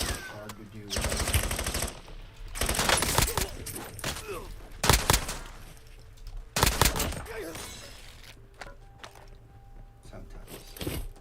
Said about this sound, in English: These are shotguns, hard to do with.